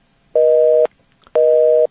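Two loud, steady telephone busy-signal beeps, each lasting about half a second and separated by a short silence, heard alone after a call is cut off.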